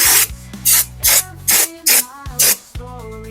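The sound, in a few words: spraying Marsh brake cleaner on motorcycle brake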